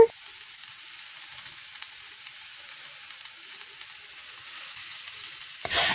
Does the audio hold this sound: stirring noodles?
yes